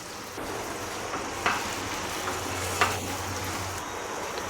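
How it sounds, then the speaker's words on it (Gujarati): Soaked moong dal stirred into a sizzling tempering in a kadai, giving a steady low frying hiss with a couple of faint scraping clicks from the spoon. "દાળ વઘાર સાથે સરસ મિક્સ કરી દીધી છે."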